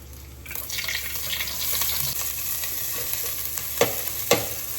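Garlic and onions frying in oil in a pan over full flame, a steady sizzle with stirring and scraping, and a couple of louder clatters near the end.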